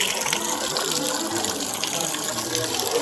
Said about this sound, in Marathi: हे येतं आहे पाणी